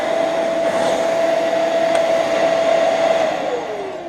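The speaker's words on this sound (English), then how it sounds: "I think we call that one fixed Samsung vacuum cleaner." A repaired Samsung SU12F40SB upright vacuum cleaner runs with a steady loud roaring whoosh and a sustained high whine, which begins dropping in pitch near the end as the motor starts to wind down.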